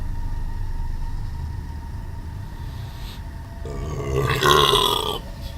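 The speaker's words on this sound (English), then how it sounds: "Pardon my burps." A person burps loudly near the microphone while playing a horror game, one long drawn-out belch building late and then trailing off, over a quiet background hum.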